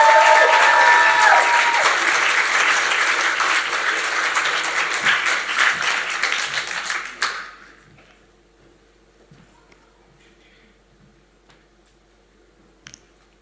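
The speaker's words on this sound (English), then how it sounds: "Please, round of applause for Afra." Loud audience applause for poet Afra Atiq at a poetry performance event, sustained for about seven seconds before cutting off sharply into near silence.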